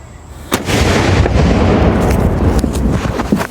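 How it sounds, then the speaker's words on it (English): A Revolutionary War howitzer fires a single loud, sharp blast, followed by a long rumbling roar and echo that rolls on for several seconds. "Battery! Prepare to give running fire from left to right! Make ready! Now's the time to cover your ears."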